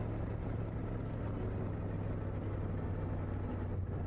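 Car engine droning at a steady pitch while driving in a video game, a constant low hum with no speech over it.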